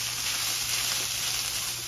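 Onion frying with ground beef in a pot, giving a steady, even sizzle close up with no pauses and no voices.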